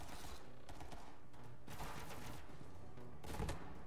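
Bursts of rapid gunfire in the video game Borderlands 3 come as faint, repeated volleys in the background, with several sharper shots standing out.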